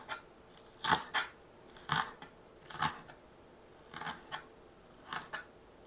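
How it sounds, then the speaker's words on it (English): Kitchen scissors snip through onions, five or six crisp, separate cuts with short pauses between them, close and clear with no talking. "I cut them off with the scissors"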